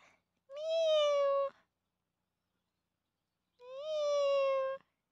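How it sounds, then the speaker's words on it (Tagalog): Two long, rising-then-falling meows from a cat following someone through a backyard garden, close and distinct, separated by a few seconds of silence. "Ayan, nakasunod sa akin yung pusa."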